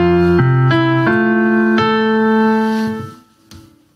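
Piano playing a chord passage from the hymn Think A Sacred Song, a few struck chords in slow succession that ring out and fade into near silence.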